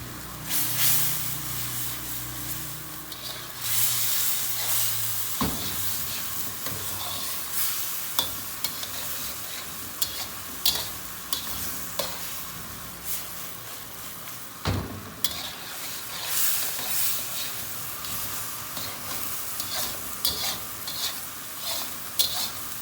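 Chicken tikka pizza topping frying with spices in a pan, a close constant sizzle broken by repeated spoon-stirring scrapes and a few sharp knocks, no talking.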